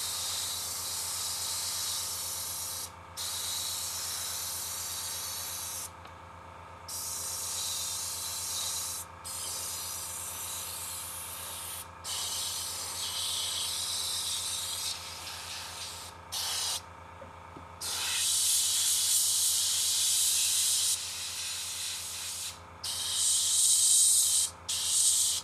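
Air compressor for an airbrush runs steadily while a Battlestar Galactica 1978 model is painted, a loud continuous hiss and rush broken by short gaps of quiet, with no talk over it.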